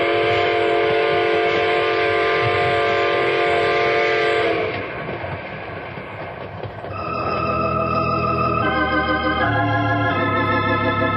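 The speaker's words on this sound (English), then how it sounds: "Blow the whistle" A runaway train sounds its whistle in a radio drama: a loud, sustained steam-style whistle blast, a brief dip into rumbling wheels and track noise, then a second long whistle, all close and without talk.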